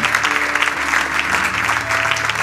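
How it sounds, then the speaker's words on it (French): A church congregation applauding loudly after a sermon, a dense continuous wash of clapping close by, with low musical tones and faint voices underneath. "Tu peux acclamer très fort pour ça."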